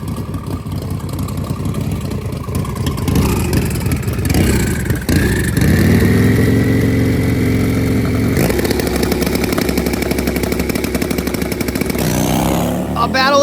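Turbocharged Harley-Davidson drag-racing motorcycles at a drag strip rev and accelerate hard. The engine pitch rises and holds as they launch, loud and continuous, with an announcer talking over the roar.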